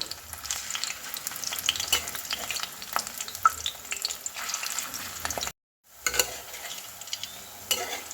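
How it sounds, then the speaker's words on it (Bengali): Kohlrabi koftas sizzle steadily as they fry in hot oil until browned, a close, dense crackle that cuts out for a moment and then resumes just as busily. "ওলকপির এই কোপ্তাগুলো ভালো করে লাল লাল করে ভেজে নিয়েছি"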